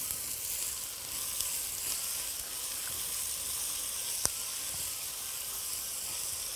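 Onions hit caramelized, darkened sugar in a hot pan and sizzle with a steady, bright frying hiss, close and continuous, with one sharp pop partway through and no talk.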